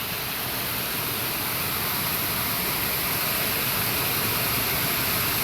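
River water pouring down over a village weir built as an immersion ghat, a dense, constant broadband rush that stays loud and even from start to finish with no voices.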